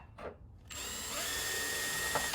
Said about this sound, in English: a standard rechargeable drill